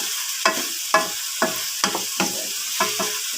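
Chicken liver being stirred into a simmering pot of miswa noodle soup with patola, a utensil scraping the pot in about seven distinct strokes over a soft steady sizzle, close and alone with no talk.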